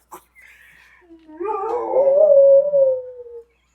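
A female dog gives one clear, mournful howl up close. It begins with thin whimpering notes, swells into a long wavering tone and then fades out.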